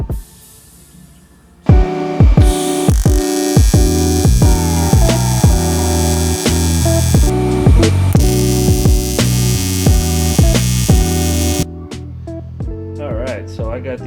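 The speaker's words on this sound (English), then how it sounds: "This is a perfect time to get more hood time TIG welding aluminum" An AC TIG welder works aluminum gussets for a VW skid plate, giving a loud, steady electrical buzz and hum that starts abruptly and holds for about ten seconds before cutting off, with shifting tonal whine throughout.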